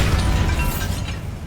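Bombarda exploding spell in Hogwarts Legacy, a short, loud burst of booming blast noise that rumbles and slowly fades over about a second and a half.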